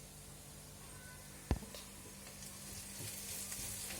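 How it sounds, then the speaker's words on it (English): Ginger garlic paste and chicken stir frying in a pan for chicken ghee roast, a steady soft sizzle with a sharp clank of a utensil partway through, close and continuous with no talking. "we continue to stir fry this and let it become brown"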